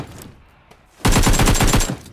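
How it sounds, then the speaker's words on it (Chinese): Rapid automatic rifle fire in PUBG Mobile, an M4 with a red dot sight, bursts out as a loud, fast, even string of shots after a quieter moment, close and dominant. "是枪声，兄弟"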